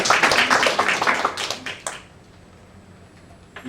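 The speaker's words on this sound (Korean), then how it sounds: "박수 한번 쳐주셔야 돼요" Congregation clapping during a Korean Sunday church service, a dense burst of applause for about two seconds that stops abruptly, leaving quiet room tone.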